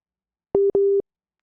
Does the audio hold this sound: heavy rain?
no